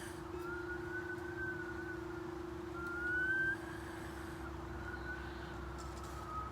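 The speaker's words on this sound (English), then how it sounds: "you're going to whistle on the way in and the way out" A person whistles through the mouth while breathing in and out, producing faint, thin gliding whistle tones that rise and fall over a steady low hum and background noise.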